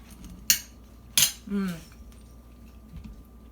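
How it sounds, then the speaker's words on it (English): A knife and fork cut into crispy fried fish on a plate, two sharp crunching cracks followed by a brief scraping clink, close and distinct in a quiet kitchen. "Cut it down, listen to that crunch."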